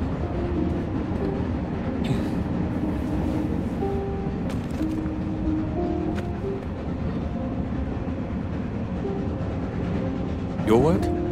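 A train carriage rumbles steadily in South of the Circle, a continuous low rolling noise with faint clanks, under a brief screech near the end.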